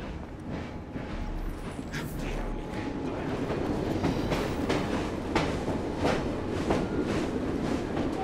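A train rolls on its rails in Assassin's Creed Syndicate, a steady rumbling drone with rhythmic clickety-clack beats, loud and close throughout with no talk over it.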